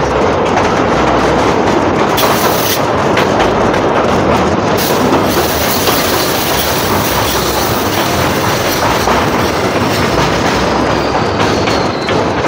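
Agartala–Karimganj DEMU passenger train running on the line near Kumarghat, with a steady loud rumble of wheels and rail clatter throughout, plus occasional faint high wheel squeal.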